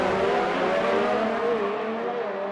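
Race car engines at Baku in a sim racing league game, a loud, close, high-revving whine that holds steady and then tapers slightly in pitch.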